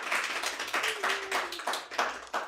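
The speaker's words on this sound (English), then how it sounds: "one more round of applause for Natasha Sanders." Applause from a live audience at a comedy show, steady clapping from a sizable crowd filling the room at close range with no talk over it.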